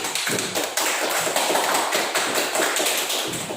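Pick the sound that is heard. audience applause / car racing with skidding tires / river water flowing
audience applause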